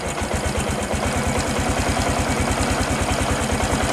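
A Honda Supra X 125 PGM-FI motorcycle engine idles steadily up close, its rapid, even low thump pulsing without a break and no voices over it.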